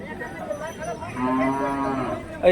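A single long, close moo from a bullock at a cattle market, drawn-out and low, rising in strength midway, with faint background noise around it.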